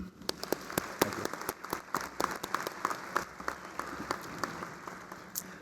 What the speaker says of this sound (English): can we clap it up for them?